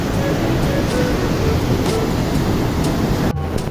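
River at Barangay Prisa, outdoors: a continuous broadband rush of flowing water mixed with wind buffeting the microphone, steady and loud, with a sharp click near the end.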